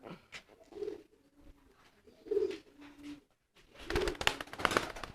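A racing pigeon coos in soft, low, throaty bursts, repeated several times up close, with some rustling and brighter outdoor noise toward the end.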